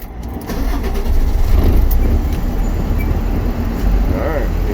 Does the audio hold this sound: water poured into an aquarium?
no